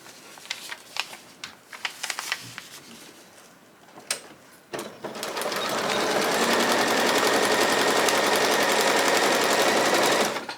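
Sewing machine stitching a paper-pieced Baby Yoda quilt top, starting with scattered taps and handling noises, then a loud steady run of rapid stitching for the last several seconds.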